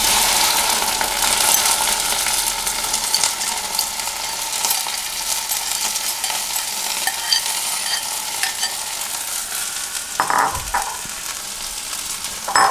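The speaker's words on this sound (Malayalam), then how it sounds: "ഇനി നമുക്കിതിലേക്ക് നമ്മൾ ചെറുതായി അരിഞ്ഞു വെച്ചിരിക്കുന്ന വെണ്ടയ്ക്ക ഇടാം." Chopped okra frying in about three spoons of coconut oil in an iron pan for a Kerala okra stir-fry, a steady close sizzle with stirring scrapes throughout and a few sharper clinks near the end.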